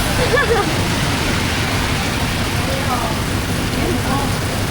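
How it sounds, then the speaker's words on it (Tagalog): Heavy rain pours steadily in Legazpi, a dense, even hiss that stays loud and constant throughout with no pauses and no voices over it. "Tapos grabe ang ulan."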